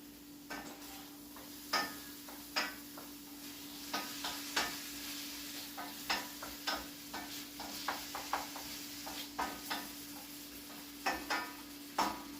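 Spiced chicken being stirred with a wooden spoon in a pan, a quiet, regular run of soft knocks and scrapes over a faint steady hum, no voices.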